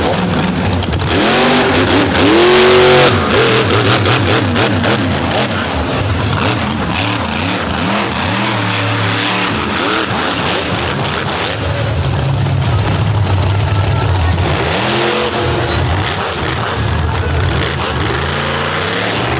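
Monster truck engine with a Freightliner rear end revving hard under heavy throttle at a monster truck event in Brooksville, a loud, continuous roar with rising and falling pitch sweeps, the crowd and arena noise mixed underneath.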